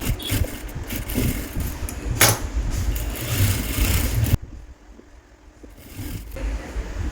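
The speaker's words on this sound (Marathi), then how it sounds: "अशी आपण तिरकी शिलाईची मारून घेणार" A sewing machine runs fast stitching a slanted seam on a boat neck blouse, a dense whirring rattle for several seconds that stops abruptly, then faint clicks in near quiet.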